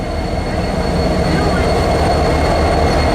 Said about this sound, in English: That's at least 5 or 6 diesel locomotives.